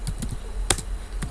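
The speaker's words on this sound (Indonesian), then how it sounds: "kita ketikkan juga sama seperti yang kita buat tadi" Several soft, quick taps on a computer keyboard as a database SQL command is typed, close and quiet over a low background hum.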